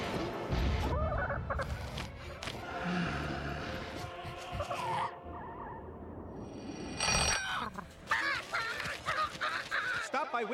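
Chicken clucking in a Wind Creek Casino and Hotel radio-style advert, sounding as bird calls mixed with music and bustle, fairly loud throughout with a brief pause near the middle.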